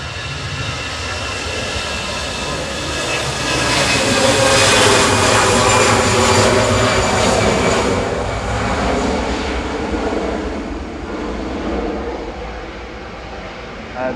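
An EasyJet airliner departs Manchester Airport for Belfast with a close, powerful jet roar and whining engine tones that swell to a peak after a few seconds, then ease off as it pulls away.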